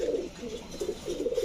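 Pigeons coo at a pigeon seller's farm among birds such as a large Black Shadel Owl Running hen, with repeated low throaty coos in close, fairly loud bursts and no voices.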